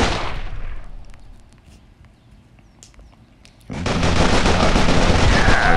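Video game gunfire from shooting bots comes as dense, loud, rapid bursts at the start, fading to a quiet stretch with faint clicks, then a sustained heavy barrage.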